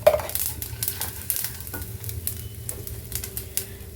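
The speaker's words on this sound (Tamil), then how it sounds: "கடுகு உளுத்தம் பருப்பு எல்லாம் பொரியுது" Mustard seeds and urad dal splutter in hot oil in a home kitchen, making a steady close sizzle with scattered sharp pops and crackles throughout.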